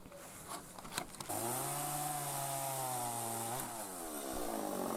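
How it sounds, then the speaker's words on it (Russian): After a few knocks and handling noises, a petrol chainsaw roars up loud and close, its engine pitch dipping as it cuts into sturdy old wooden posts for firewood, then rising again. "бензопилу и заправим, так сказать, и будем пилить вот эти стойки"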